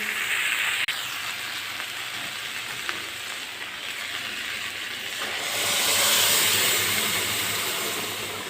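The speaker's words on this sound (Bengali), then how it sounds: "বাঁধাকপি আমার ভাজা হয়ে এসেছে" Cabbage frying in a pan for a pea dal gives a steady, close sizzling hiss that runs throughout and swells louder toward the end, with no voices.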